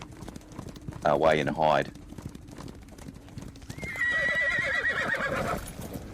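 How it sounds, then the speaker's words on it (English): Horses in a tabletop role-play session's sound backdrop: a shrill whinny rises clearly early on, followed by a long stretch of galloping hoofbeats and more neighing, all heard over voices talking throughout. "Can you hear the noise, the screaming, the noise of the horses"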